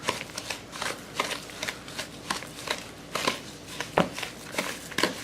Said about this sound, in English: So just mix this up well.